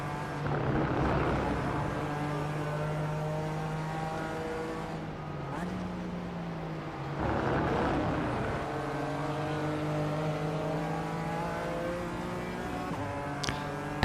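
BMW M race car in iRacing, engine roaring at high revs through an upshift, pitch dropping briefly at each change before climbing again; loud and continuous, with commentary over it.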